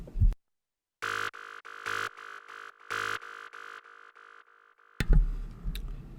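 Psytrance grid stabs from a Serum synthesizer: a sequence of short, bright tonal hits in a rhythmic pattern, some louder and some softer, ending in a noisy sweep near the end.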